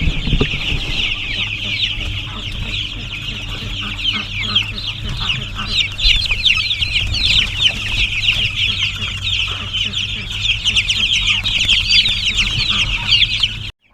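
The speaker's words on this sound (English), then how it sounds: "I'll leave you guys with the chickens." A brooder packed with roughly 125 young chicks fills the space with constant, overlapping high-pitched cheeps, loud and close, over a faint low background drone.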